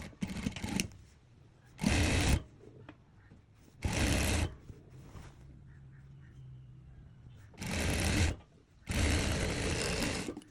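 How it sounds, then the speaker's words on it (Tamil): A sewing machine stitches a folded hem on a frock in four separate loud bursts of stitching, each a second or two long, with quiet pauses between them and a faint low hum in the gaps. "அப்படியே சுற்றி வர மடித்து தைக்க போகிறேன்"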